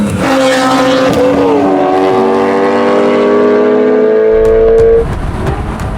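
A BMW 335i E92 is driven hard, its engine note rising and falling through loud sustained revs with shifts before the sound cuts back near the end.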